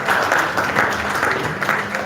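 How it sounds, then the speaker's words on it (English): Crowd applause at a live event, a loud, dense spell of clapping that holds steady for a couple of seconds with a faint voice buried beneath. "Please give her a round of applause"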